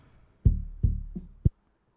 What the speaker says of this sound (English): This is the kick.